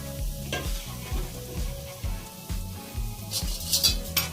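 Semolina roasting in ghee is stirred steadily, the spoon scraping the pan in a regular rhythm over a soft continuous sizzle, close up with no voices.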